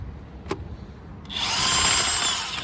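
Power drill turning a socket during brake work on a 1994 Dodge Dakota: a couple of faint clicks, then the drill whirs up and runs steadily, close and fairly loud, with no talking.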